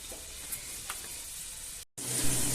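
Chicken, chorizo and other ingredients fry in a soup pot with a soft, steady sizzle and faint crackles, low in level, cut by a momentary dropout before resuming.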